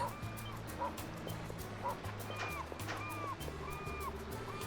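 A dog in the video game Ys Seven gives a few short barks and yips over steady game music and ambient sound at moderate loudness.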